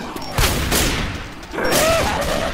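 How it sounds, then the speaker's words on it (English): Pipe bomb detonating in the zombie shooter Left 4 Dead 2, heard as several loud, sharp blasts in quick succession with a rumbling tail, mixed with surrounding gunfire. "Pipe bomb."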